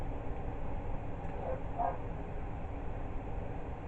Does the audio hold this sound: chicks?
no